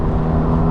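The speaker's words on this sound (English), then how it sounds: "Maybe just a big noisy car." A big, noisy car passes behind a cyclist on a road in Harris and Lewis, Scotland, its low, steady engine rumble filling the whole moment at close range with no voices.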